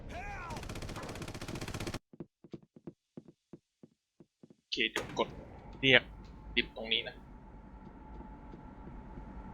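Gunfire from a long-range gun in the Red Faction video game, a rapid burst followed by a series of sharp, evenly spaced single shots, then clattering impacts with voices talking over them.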